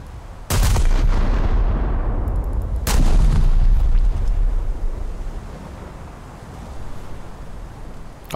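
Naval guns fire in the War Thunder game with two loud, booming blasts a couple of seconds apart, each followed by a long rumbling roar over a steady wind-and-sea background.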